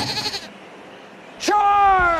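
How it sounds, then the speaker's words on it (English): A goat bleats once loudly at close range, a drawn-out wavering cry that follows a moment of voices and a quiet pause. "Fetch the goat."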